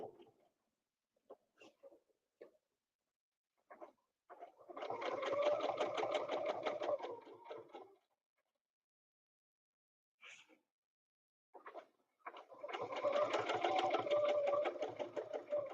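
Two sustained bursts from a sewing machine stitching a quilt block, each running several seconds with quiet pauses and small handling clicks between them.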